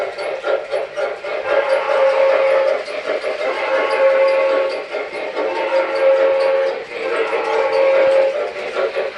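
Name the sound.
MTH Railking L3 Mohawk model train whistle blowing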